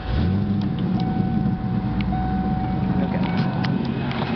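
A 1994 Ford Mustang 5.0 idles with a steady engine drone, and a thin, constant whistle from the intake runs above it throughout; one brief spoken word at the start.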